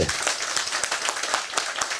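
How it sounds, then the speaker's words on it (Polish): A crowd at an outdoor May farm gathering in Poland applauds for Jurek Zięba. Dense, even clapping carries on throughout, fairly close and of moderate loudness. "Brawa dla Jurka Zięby!"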